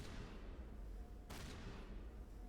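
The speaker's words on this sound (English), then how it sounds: "They're shooting at a box." Muffled gunfire in a video game as enemies shoot at a box, a dense continuous rumble of shots with one sharper burst near the middle, faint and distant-sounding.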